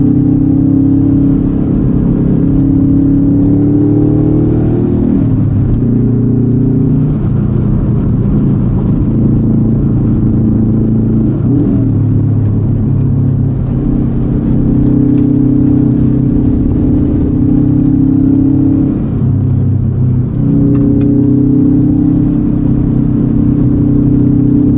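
Subaru STI V2 555 edition on the move, its engine droning steadily with rising and falling revs as it accelerates and eases off, loud and close from inside the car.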